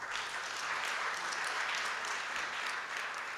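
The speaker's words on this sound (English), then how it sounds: "Another round of applause." Steady applause from a crowd at a book launch, a dense wash of clapping that holds at an even loudness for a few seconds.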